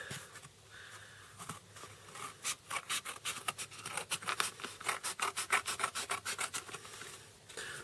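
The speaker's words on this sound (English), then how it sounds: "So you'll want to cut this up into 12 different strips" Scissors snip through a cardboard egg carton lid, starting with slow scraping and building into a quick, rhythmic series of close, crisp rasping cuts.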